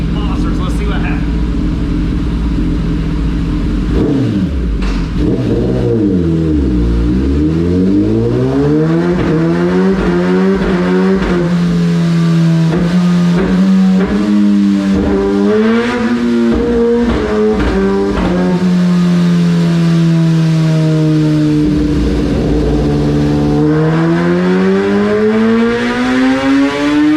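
A 2020 Kawasaki ZX10R sport bike with exhaust and ECU flash screams through a full-throttle dyno pull, its loud engine note climbing and dipping in long sweeping rises across the run, with a voice speaking over it.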